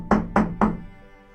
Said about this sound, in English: a knock on the door took everyone by surprise